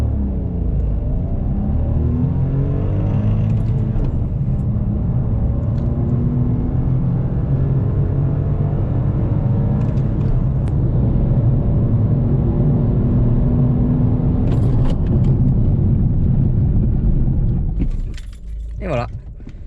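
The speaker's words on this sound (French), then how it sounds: "Je vous fais le 0-100 pour accélération et le freinage sur une ligne droite avec traction control active." A 2021 Toyota Yaris 1.0 VVT-i city car accelerating hard from a standstill to 100 km/h on a straight road with traction control on, its engine droning and rising steadily under continuous cabin noise, then easing off near the end.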